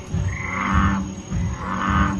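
A bullfrog in a museum exhibit recording gives two deep, loud, drawn-out croaks, each swelling and fading, with a faint steady hum beneath.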